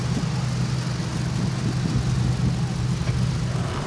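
A 1965 Ford Falcon rally car's engine at the Newfoundland Targa Rally, heard from inside or close by as a steady, loud low drone that holds even throughout, with no clear revving or gear changes.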